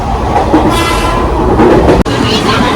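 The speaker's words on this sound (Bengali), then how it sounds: "ট্রেনে উঠলাম আর ট্রেন ছাড়বে" Train about to depart, a loud continuous rumble and rolling hum close by, with a brief sharp break near the end.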